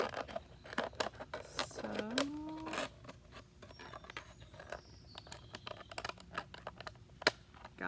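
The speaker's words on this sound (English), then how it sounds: "I like to put my scissors inside the bottle, and then you're only cutting one layer at a time." Scissors snip through a plastic bottle being cut in half for a recyclable planter, a run of sharp crackling clicks and crinkles close by, with a brief spoken word.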